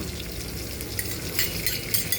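Steady frying sizzle of pork fat in a pan, a continuous crackling hiss with small pops, close and moderately loud, with no voices.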